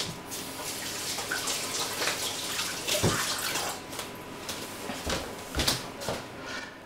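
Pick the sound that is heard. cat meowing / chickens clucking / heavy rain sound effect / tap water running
tap water running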